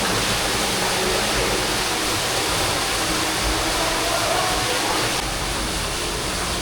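An underground waterfall roars inside a cave, a dense, steady rush of falling water close by, filling the space without pause and with no voices.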